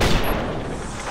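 Gunfire in the Roblox tank game gives a short, loud, booming blast with a rumbling tail, heard close and alone.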